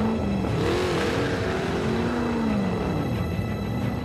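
Shelby GT500 Mustang convertible from 2013 with its engine running steadily, a deep throbbing rumble whose pitch rises and falls slightly as it revs, close and continuous with no talk.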